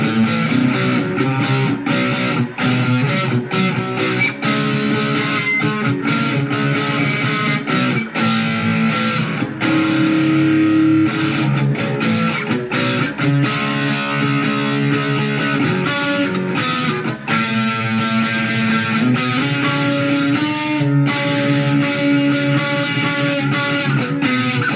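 An Aria electric guitar is played through an amp's crunch channel, giving a continuous driven, distorted run of strummed chords and riffs that sustains steadily and loudly with no talking.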